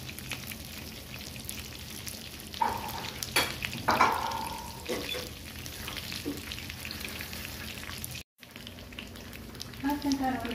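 Shrimp frying in hot oil for a crispy fried shrimp dish, a steady low sizzle with a few louder crackling bursts and some stirring, cut by a brief dropout near the end.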